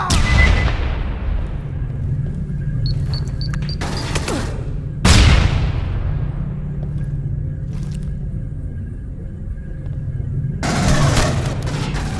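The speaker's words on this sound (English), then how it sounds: "let's break out the grenades" Grenade explosions in the Aliens: Colonial Marines game land as loud, booming blasts, two big hits about five seconds apart, each decaying into rumble. Gunfire and combat noise rumble steadily underneath, with a final burst of noise near the end.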